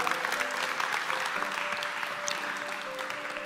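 An indoor audience claps for a speaker at a talk, with dense, continuous applause that stays steady and fairly close for the whole stretch.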